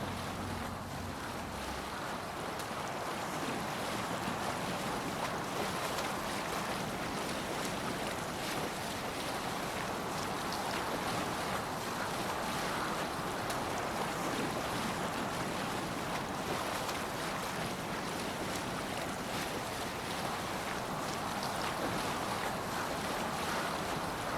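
A Viking longship sails the open sea in Assassin's Creed Valhalla, with steady wind and waves washing against the hull in a continuous, full rush that never lets up.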